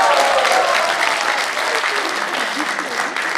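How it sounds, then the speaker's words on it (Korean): Audience at a politician's book launch celebration giving a round of applause, dense steady clapping across the hall with some voices underneath. "다시 한번 박수 보내시죠"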